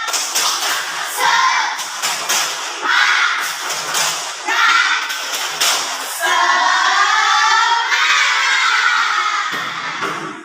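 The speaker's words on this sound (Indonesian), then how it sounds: "tepuk semangat" A group of children does a spirit clap in a quick, patterned rhythm, bursts of clapping broken by short pauses, with young voices chanting along.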